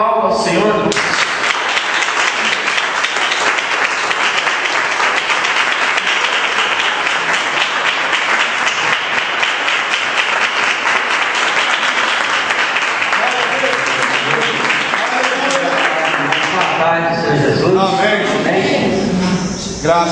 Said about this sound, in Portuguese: que a igreja aplauda ao Senhor